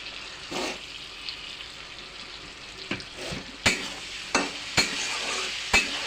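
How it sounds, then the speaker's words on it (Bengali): A spoon stirs bhoot jolokia chilli pickle frying in oil in a pan, with a soft continuous sizzle and several sharp scraping clicks of utensil against metal toward the end, close and alone. "আচারটা হয়ে গিয়েছে, বেশি সময় ভাজতে হয় না, একটু লাড়াচাড়া করেই হয়ে যায়।"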